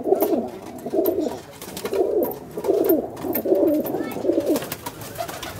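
Fancy pigeons at a pigeon club in Pieria coo in repeated rolling bursts, about five close, rhythmic phrases over a soft rustling background.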